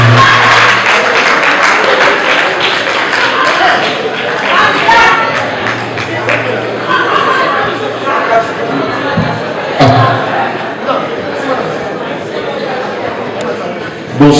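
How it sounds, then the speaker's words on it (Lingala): An audience applauds to welcome a jazz artist on stage at an evening show, scattered clapping and crowd noise with a few thumps, mixed under an announcer's voice throughout. "Sous vos applaudissements, messieurs et dames."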